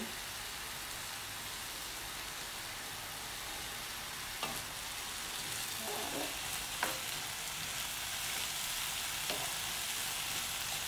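Rosemary fries in a pan for sausage rigatoni, giving a steady, fairly quiet hissing sizzle with a few light stirring clicks and pops.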